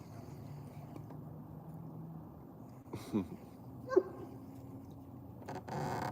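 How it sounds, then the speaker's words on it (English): A dog gives a couple of short, fairly distant barks and yips at irregular moments over a quiet outdoor background near water where someone is fishing. "You don't have to keep barking at me, pup."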